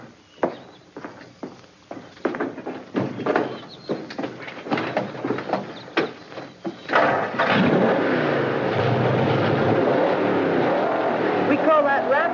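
A 1954 hot rod V8 with dual exhausts turns over and sputters in uneven bursts, then catches and roars in a loud, steady rumbling rev close by.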